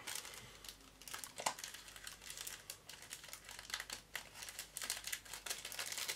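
Resealable plastic bags from a model kit crinkle and rustle as they are handled, a quiet, close, irregular series of crackles and soft rattles running throughout.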